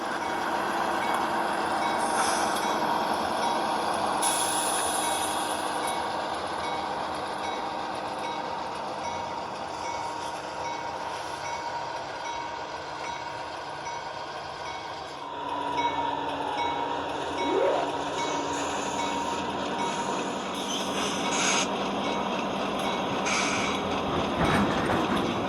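An HO scale model train rumbles steadily nearby with continuous mechanical noise and occasional higher squeals and clanks, no voices.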